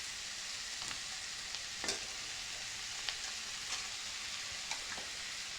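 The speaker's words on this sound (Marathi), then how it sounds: "हे सर्व छान असं परतून घेऊ" Vegetables with black sesame sizzle and fry quietly in a pan for a Maharashtrian bhogi bhaji, a steady soft hiss with occasional small stirring clicks and no talk.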